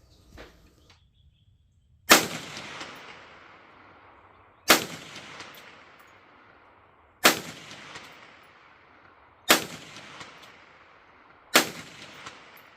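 Five sharp rifle shots at a target 150 yards away, spaced roughly two to three seconds apart, each a loud crack followed by a decaying outdoor echo, with no talking.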